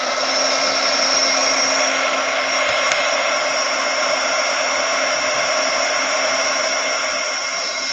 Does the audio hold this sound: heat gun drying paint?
yes